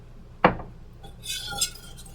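A spoon clinks against a bowl while slowly stirring almond milk into a peanut butter chocolate cream pie filling: one sharp near tap, then softer scraping and a faint second chink.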